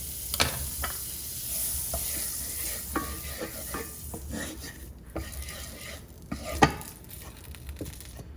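Butter sizzles in a frying pan while blini cook, a soft continuous crackle under clinks and scrapes of a utensil against the pan, close and without talk.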